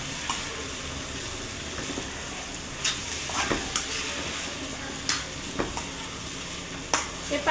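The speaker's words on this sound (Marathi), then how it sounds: "एका हातानं मस्त चम्मचनं हे शाबू मी हलवून घेत आहे" A spoon stirring sabudana khichdi in a kadhai, scattered scrapes and clinks over a soft steady hiss, faint and close.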